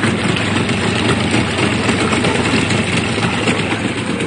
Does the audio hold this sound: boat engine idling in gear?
yes